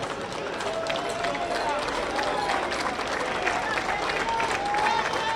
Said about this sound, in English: That will do it for Sam Curtis, who will get a nice round of applause from his teammates and from his fans as he leaves the game.